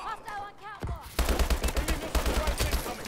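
Rapid gunfire in a first-person shooter game bursts in loudly after a brief quieter lead-in, with dense repeated shots rattling on in an unbroken automatic stream.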